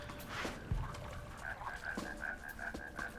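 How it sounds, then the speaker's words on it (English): Frogs croak in the video game Shelter, a steady series of evenly spaced croaks over a quiet ambient background, with no talking. "Frogs."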